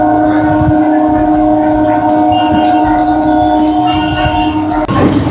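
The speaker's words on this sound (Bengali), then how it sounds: "আমাদের ট্রেন ছেড়ে দিল সাঁতরাগাছি স্টেশনের 3 নম্বর প্ল্যাটফর্ম থেকে" A local train on the Howrah–Digha service pulls away from platform 3 at Santragachi station, with a loud continuous rumble and steady droning tones of the moving carriages, rhythmic clatter throughout, and a brief change near the end.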